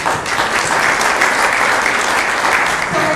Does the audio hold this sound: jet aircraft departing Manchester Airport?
no